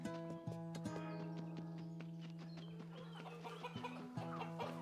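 A green chicken in the Maliki video game clucks repeatedly in short, quick bursts over a steady droning game music tone, faint and alone without speech.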